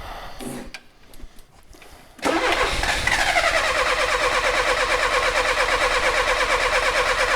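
Starter motor cranking a Peugeot 305 that sat 33 years in a hedge, fitted with a Lucas rebuilt starter, with a few seconds of uneven low churning before the engine catches and settles into a loud, steady running roar.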